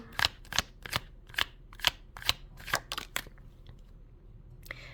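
Tarot cards being shuffled in a steady, paced rhythm: about eight crisp riffling bursts, close by, then quiet with faint room noise.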